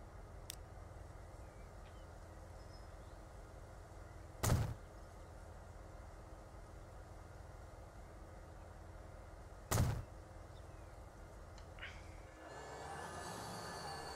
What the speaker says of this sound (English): It's the express train being blocked by the freight.